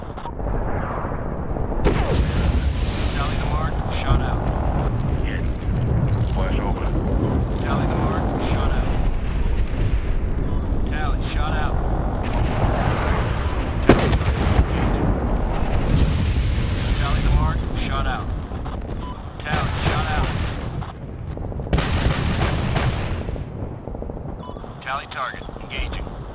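Artillery and gunfire rumble continuously through a realistic military game battle in Afghanistan's Shahikot Valley, heavy booms and crackling shots layered densely, with radio voices talking over the din.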